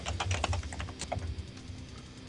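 Quick keystrokes on a computer keyboard patter in a short, uneven burst that thins out toward the end, heard close up in a studio setting.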